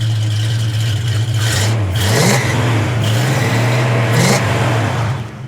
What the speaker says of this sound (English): Rev it up one. I kind of want to hear it rev.